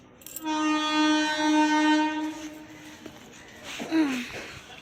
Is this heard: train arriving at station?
yes